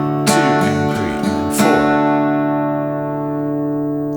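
Acoustic guitar chords strummed in a steady rhythm, with two sharp accented strums standing out before the ringing chord slowly decays, played alone without any voice.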